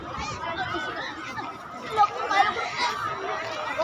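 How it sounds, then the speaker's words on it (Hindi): Dense crowd chatter of pilgrims gathered along the Ganges ghats during Dev Deepawali, a steady outdoor babble of many voices at mid distance with a few louder bursts near the end. "गंगा किनारे का तट, आपको बहुत भीड़ आपको दिख रही है।"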